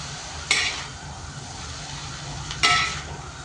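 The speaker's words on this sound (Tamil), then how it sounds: "மொத்த நூடுல்ஸையும் போட்டுட்டு இப்போ நாங்கள் மிக்ஸ் பண்ணணும்." A utensil scrapes twice against a pan while noodles are mixed, two distinct metallic strokes about two seconds apart over a quiet background, close and with no talking.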